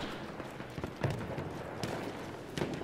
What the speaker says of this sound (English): that's an enemy horse nearby, wherever it is.